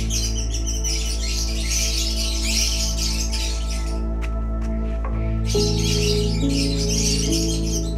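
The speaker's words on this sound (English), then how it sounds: "hear every morning the chirpings of these beautiful African lovebirds" African lovebirds chirp on a farm, bursts of many bright overlapping tweets that pause briefly and then resume, loud and close over a constant low mechanical hum.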